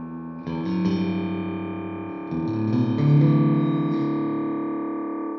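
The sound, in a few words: BOSS DD-3T delay pedal short-delay repeats on guitar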